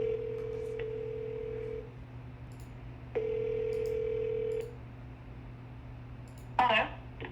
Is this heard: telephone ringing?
yes